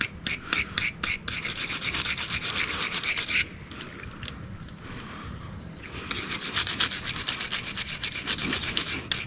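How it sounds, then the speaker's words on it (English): Brake caliper bolts from a 2007 Lexus GS350 are brushed off with rapid, gritty scrubbing strokes close by. They pause briefly midway, then resume at a steady rhythm, with no talk. "Brush your bolts off."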